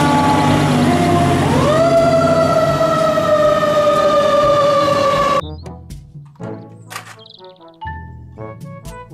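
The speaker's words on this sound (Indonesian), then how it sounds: "Mobil truk pemadam kebakaran." Fire truck siren wailing loudly and steadily with a rising sweep at the start, giving way to quieter, choppy sounds after about five seconds.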